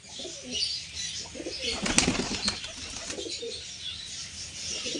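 Pigeons, kaldum breed, coo softly and continuously, with a brief rustle of flapping wings in the middle.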